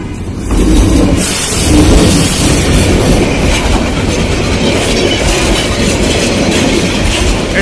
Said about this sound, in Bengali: তিন হাজার বিশ নিয়ে একটা ট্রেন আসছে